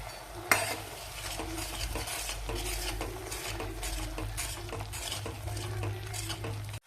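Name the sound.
stirring and sautéing misal masala with turmeric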